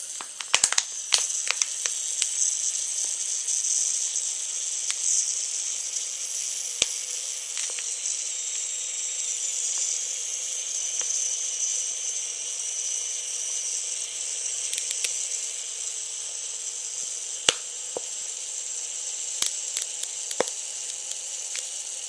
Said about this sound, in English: you just simply take your thumb and you just, and then the water vapor comes out